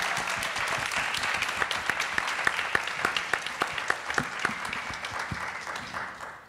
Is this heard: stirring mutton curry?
no